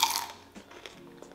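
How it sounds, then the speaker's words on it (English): A single sharp crunch as a fried, oily snack is bitten, loud and close at the start, followed by a few fainter chewing crackles. "It has an amazing crunch though."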